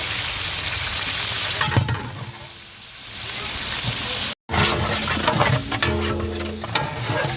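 Whole spices and onion dropped into hot oil for a chicken curry, giving a steady crackling sizzle with stirring scrapes, close and continuous, broken by one brief cut before the frying resumes louder.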